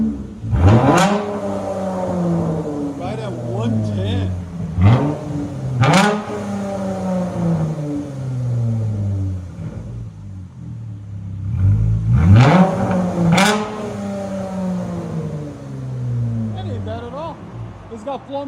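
A Dodge Charger 3.6L V6 with Flowmaster Outlaw exhaust revs hard several times, each sharp climb falling back to a rumbling idle, loud and close.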